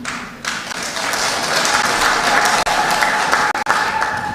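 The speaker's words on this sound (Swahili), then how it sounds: "Asanteni sana kwa makofi" Sustained, dense applause from a crowd of delegates at a national party conference at Ufungamano House in Nairobi, loud and continuous for several seconds.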